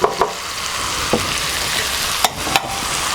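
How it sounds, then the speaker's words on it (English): Courgettes frying in a pan for a healthy Spanish omelette, a steady broadband sizzle with a few sharp clinks of a utensil stirring against the pan. "Going to put the courgettes in next, and then whilst they're frying away"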